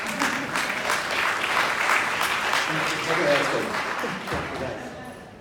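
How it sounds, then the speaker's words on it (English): Crowd at a blockchain summit applauds in a broad wash of clapping mixed with cheers and voices, building slightly then easing off as it winds down. "So a big round of applause for Edelson."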